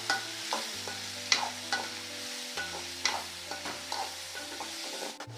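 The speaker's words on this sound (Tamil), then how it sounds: "உப்பு போட்டு ஒரு 2 நிமிஷத்தில் தக்காளி நல்லா வதங்கிடுச்சு பாருங்கள்." Tomatoes with salt sautéing in a pan while a spoon stirs them, with repeated scraping strokes over a low sizzle, close and clear with no voices.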